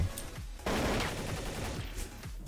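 AK rifle fire in the video game Counter-Strike Source, a loud burst of rapid automatic shots that starts abruptly and continues steadily before tapering off.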